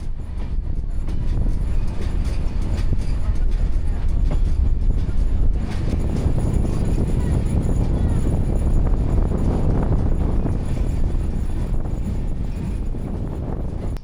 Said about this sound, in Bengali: আবারও যাত্রা শুরু করলো আমাদের ট্রেন।